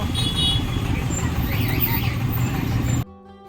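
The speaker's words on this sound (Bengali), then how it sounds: "বাপরে বাপ, সামনে কত জ্যাম" Road traffic stuck in a jam: steady engine rumble and vehicle noise from buses and cars close by, with a voice speaking over it until the noise cuts off near the end.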